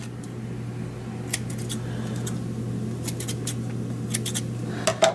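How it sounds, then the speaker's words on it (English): Scissors snip threads after stitching on an Outlaw portable leather sewing machine, giving several short, sharp clicks in small clusters over a low steady hum. "And then we'll go ahead and trim our threads."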